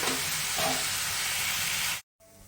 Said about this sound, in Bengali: একটু ভাজা হবে এটা